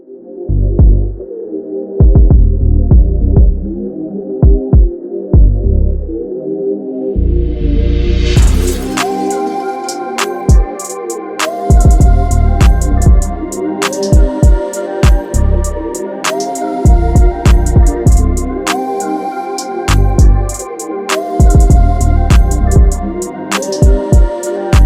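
A RevAir reverse-air hair dryer throbs and hums loudly, its pitch rising as it spins up, then running with repeated pulsing surges as hair is drawn through, close and with no voices.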